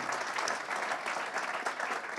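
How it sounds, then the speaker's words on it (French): Steady audience applause at a 24 Heures du Mans press conference, a dense even patter of many hands heard from a moderate distance, fairly soft and unbroken throughout. "et ça s'applaudit encore, ce calendrier"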